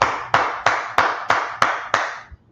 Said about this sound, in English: Let's clap it up for the Lord.